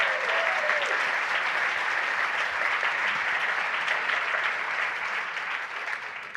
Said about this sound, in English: Can we give them a round of applause and a welcome?